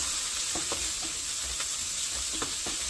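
Shallots, dried red chillies and curry leaves sauté in hot oil with popped mustard seeds for a brinjal potato kadayal: a steady close sizzle with a few soft spoon scrapes and stirs, no talking.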